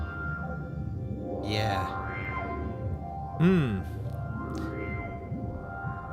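Moog Subharmonicon synthesizer running through its low-pass filter, giving a droning, sweeping tone with gliding pitch swells that rise and fall under a brief spoken word.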